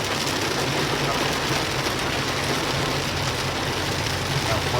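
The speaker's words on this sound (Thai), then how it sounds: "ฝนตกหนักลมแรงครับที่จังหวัดขอนแก่นนะครับ" Heavy rain pours with strong wind during a storm in Khon Kaen, Thailand, a loud, dense and unbroken roar of falling water and gusts.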